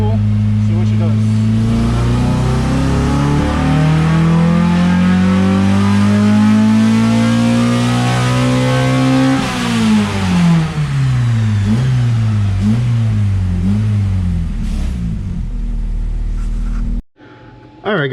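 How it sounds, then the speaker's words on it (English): A Honda H22A engine in an EK chassis on a dyno with a fully catted exhaust, revving hard through third gear: a loud, rising howl that climbs steadily, dips at a shift point, then revs on before backing off, with talk over it. "we're gonna do a third gear pull, see what she does"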